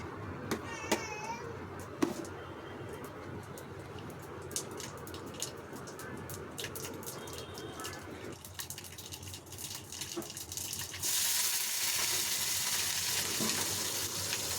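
Onions and green chillies sizzle in hot oil in a home kitchen, a steady frying hiss that swells louder near the end, with a voice and children's chatter over it.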